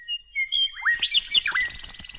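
Several bird chirps and whistled tweets, starting with thin high notes and building into a quick, busy burst of song, fairly close.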